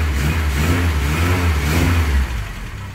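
Classic Mini car with a 1275 engine revving up close, a throaty sporty engine note rising and falling over a few seconds, then dropping back toward idle.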